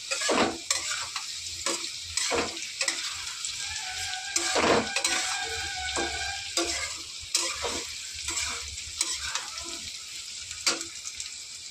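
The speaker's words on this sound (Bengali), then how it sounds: "দেখো আমি এখানে আলুটাকে লাল লাল করে ভেজে নিয়েছি। এবার এর মধ্যে ধনে গুঁড়ো আর জিরে গুঁড়ো দিয়ে দিয়েছি।" Potatoes fried until reddish, sizzling in a pan with added coriander and cumin powder, a steady low sizzle broken by frequent scraping stirs and metallic clinks of the spoon on the pan, close and with no voices.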